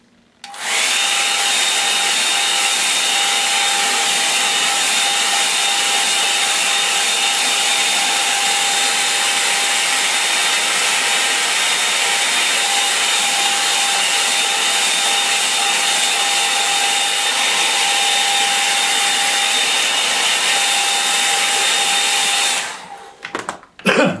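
A hair dryer blows over a wet mixed-media watercolour meadow painting, a loud, steady whine held for over twenty seconds before switching off, with a faint clatter at the very end.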